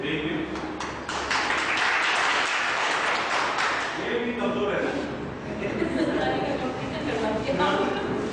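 The men's side of a training-session audience claps in a scattered round mixed with chatter and some chuckling, with people talking throughout.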